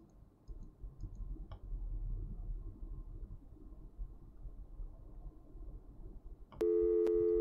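Telephone being dialed in the 1993 adventure game Gabriel Knight: soft clicks over a low hum, then a loud steady tone cut by sharp ticks at the end.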